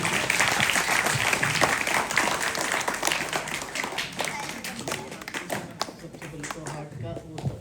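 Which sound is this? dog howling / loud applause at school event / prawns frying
loud applause at school event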